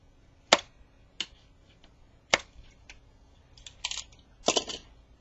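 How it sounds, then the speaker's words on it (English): A wooden popsicle craft stick scored and snapped in half, a few sharp dry clicks and cracks spaced apart at close range, with a quick cluster of snaps toward the end in a quiet room. "Snap it after I score it. It comes off pretty clean."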